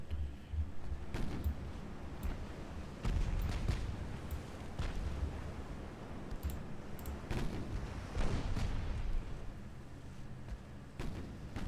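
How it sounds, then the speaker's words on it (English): Warship guns fire in the naval strategy game Ultimate Admiral Dreadnoughts: repeated heavy booms rise over a constant low rumble, with several distinct blasts spread across the stretch and no voices. "as we're passing by this one, take a few shots at it"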